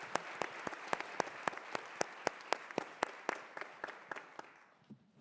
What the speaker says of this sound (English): I want to ask that we give a round of applause to President Sams